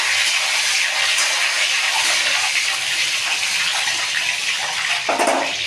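Eggs frying in a pan for an egg curry, a steady loud broadband sizzle and hiss running throughout with no voices, with a brief brighter burst near the end.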